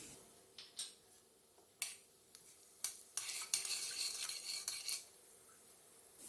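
Panch phoron spices spluttering in hot mustard oil in a pan, faint irregular crackles and pops in scattered bursts, thickest toward the middle, with light utensil scraping and no voices.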